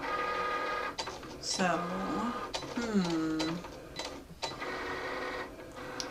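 A Cricut Explore Air cutting machine writes letters with a pen, its small motor buzzing and whirring in short steady runs close by, partly under a person's voice talking over it.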